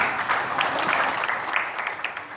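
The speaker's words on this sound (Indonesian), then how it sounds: "tepuk tangan." Dense, continuous applause from an audience at a formal organizational work meeting in a hotel, a thick wash of many hands clapping at once, fairly loud and steady throughout.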